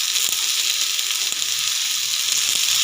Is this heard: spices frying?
yes